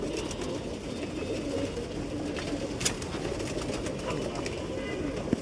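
A female Rabbani pigeon coos softly amid a dense, steady background of other pigeons in a loft, with faint scattered chirps and occasional soft knocks throughout.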